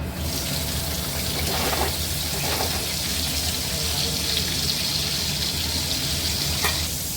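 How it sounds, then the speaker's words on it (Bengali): Carrots, large beans and capsicum frying in hot oil give a loud, steady sizzle that runs unbroken throughout, with a few faint stirring scrapes and no talk. "এটা আমরা ঢেলে দেবো, এটা আমরা ভেজে নেব।"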